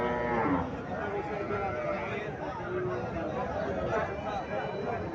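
A cow moos loudly and nearby at the start, while crowd chatter and voices continue throughout, at a cattle market in Chandimura, Barura, Comilla, Bangladesh.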